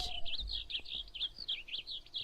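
A bird in a modded video game chirps in a quick series of short, high tweets that repeat steadily and close up over faint background hiss, with no speech.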